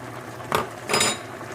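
Two short clinking scrapes of a spoon stirring chicken broth mix into a pot of chicken bachoy soup with chicken feet, separated by a brief pause, fairly quiet and close.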